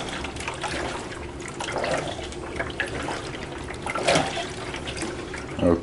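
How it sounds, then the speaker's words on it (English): A WonderWash hand-crank laundry machine turns with water inside, giving a soft continuous sloshing and swishing with a few louder splashes near the end, close and fairly quiet. "This machine is so well designed that most of the weight is neutralized, so it's really light to move the crank."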